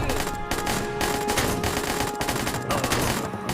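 Loud, rapid automatic gunfire from the video game Plastic Battlegrounds, dense bursts of shots rattling almost without pause, with brief gaps between volleys.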